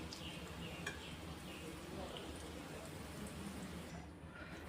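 Bay leaf, cinnamon, dried red chillies, cardamom, cloves and peppercorns fry in hot oil for a paneer curry, giving a steady close sizzle and crackle that continues evenly throughout.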